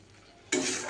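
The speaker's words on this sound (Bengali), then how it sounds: "কলমি শাক ভাজা হচ্ছে বন্ধুরা।" Water spinach (kalmi shak) frying in a pan, starting with quiet background and then a sudden loud burst of sizzling and stirring for the second half.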